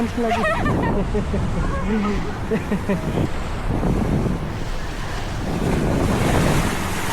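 Loud, continuous surf at Pantai Jerman beach in Bali washes in steadily, with heavy wind buffeting the microphone throughout.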